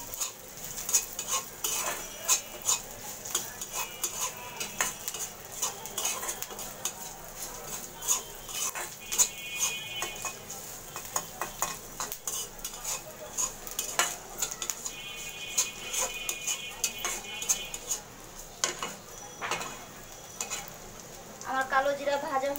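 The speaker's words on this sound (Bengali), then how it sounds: "এখন আমি একটু নাড়া দিয়ে নামিয়ে ফেলবো কালো জিরাটা" Washed, dried black cumin seeds roasting in a pan, stirred with a metal spoon that clanks and scrapes repeatedly against the pan over a faint sizzle, with occasional kitchen clatter.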